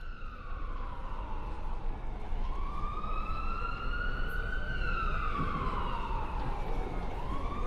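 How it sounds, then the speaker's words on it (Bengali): An ambulance siren wails continuously in rising and falling sweeps, loud and steady throughout, with low road rumble beneath and no talking. "ইমার্জেন্সি ওয়ার্ডের সামনে সারাক্ষণ অ্যাম্বুলেন্সের সাইরেন"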